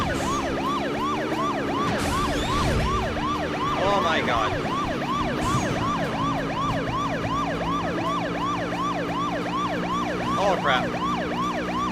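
A loud, steady wailing police car siren rises and falls in a fast repeating cycle throughout, alongside road noise and a brief engine rumble, with a man's startled exclamations heard over it.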